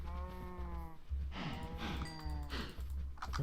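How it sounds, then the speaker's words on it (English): Several cattle moo in a Minecraft modpack, drawn-out harmonic lowing calls overlapping one after another against a low background hum, with no talking. "That should be a bunch of more cows."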